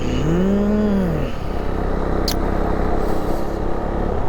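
A BMW car overtakes on a mountain road near Pangong in Ladakh: its engine note swells and falls as it passes close by, then settles into a steady, loud road rumble.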